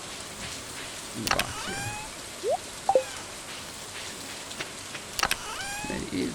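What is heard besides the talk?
rain in the video game Stardew Valley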